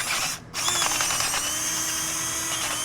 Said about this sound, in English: I'm just gonna drill those holes out.